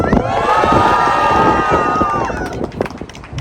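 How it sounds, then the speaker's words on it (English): A crowd cheers and whoops at a science advocacy rally outside a state house, a loud sustained roar of many voices with shouts on top that fades slightly toward the end. "Let's give a cheer for those facilitators."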